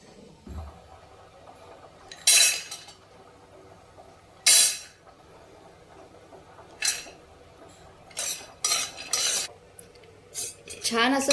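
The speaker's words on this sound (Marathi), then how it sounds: "आता हे सगळे ड्रायफ्रुट्स सगळे मी आता भाजून घेत आहे।" Cashews, almonds, pistachios and raisins dry-roasting in a pan over low heat, heard as a few sharp scraping and clinking strokes of a spoon against the metal between quiet stretches, with no one speaking.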